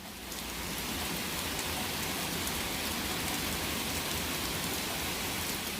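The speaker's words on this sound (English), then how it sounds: "a storm just came rolling through, and hail and thunder and lightning was just so loud that it was taking over my film" A storm with hail and rain pours down in a dense, steady roar that starts at once and stays loud throughout, with no clear thunderclap standing out and no voices.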